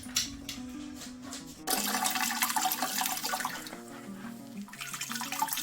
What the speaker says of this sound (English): what we're doing here is straining the grain, so getting all that wort out of the bag